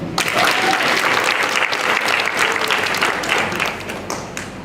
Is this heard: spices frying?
no